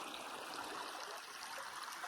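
Creek water flowing beside a backcountry campsite between Lynn Camp Creek and Walker Gap, a soft, steady babbling wash with no voices.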